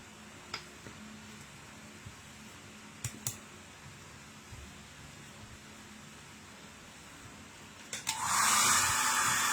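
A blower switches on with a loud, broad rushing roar to dry paint on a Punisher Hulkbuster action figure. It follows a quiet stretch broken by a few faint clicks.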